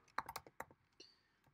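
Clicking keystrokes on a computer keyboard during coding work, a quick burst of several taps followed by a few faint, scattered presses, close and alone.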